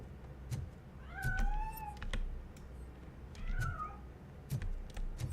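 Cat meowing in the Robocop video game, two drawn-out wavering meows spaced a couple of seconds apart, set against faint clicks and sharp ticking sounds from the game.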